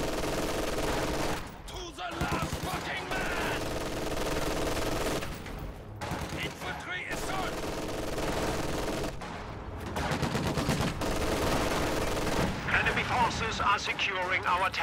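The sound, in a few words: machine gun fire in a WWII strategy video game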